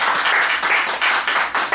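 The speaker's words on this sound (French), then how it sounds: "on peut quand même l'applaudir un peu quand même" Applause for a Cardfight Vanguard tournament winner: a small group claps briskly and close by for a couple of seconds in quick, uneven bursts.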